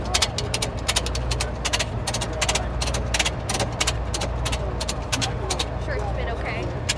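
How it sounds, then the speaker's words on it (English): Car jack being cranked by hand to lift a car at a fair, a rapid run of sharp metallic ratchet clicks repeating steadily under a busy outdoor background. "if you watch, the car could actually start lifting if they keep cranking"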